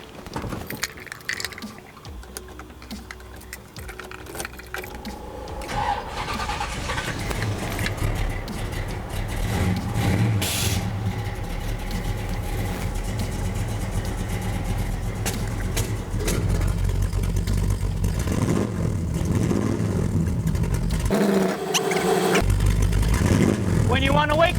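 A 1970 El Camino with custom air suspension and electric exhaust cutouts starting up, its engine catching and settling into a loud, steady, throaty rumble up close, with people talking around it.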